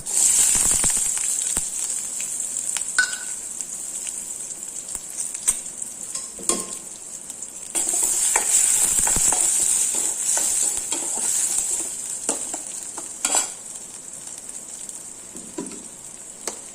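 Mustard seeds, urad dal, curry leaves and onion frying in hot oil make a loud, steady hiss and sizzle with scattered crackles and the occasional scrape of stirring, close up with no voices.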